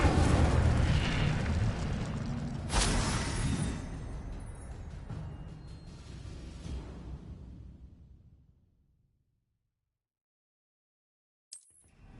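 An Incendio fire spell cast in a wizard video game bursts with a loud, rumbling whoosh that slowly fades into silence, followed by a brief click near the end.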